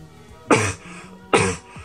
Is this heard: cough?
yes